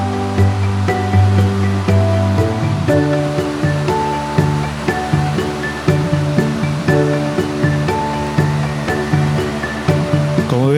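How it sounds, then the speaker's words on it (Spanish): Water tumbles down successive cascades through the narrow rocky gorge of the Borosa river trail, a loud, steady rushing roar with no voices. "fluyen las aguas que descienden de las angosturas del barranco por medio de sucesivas cascadas"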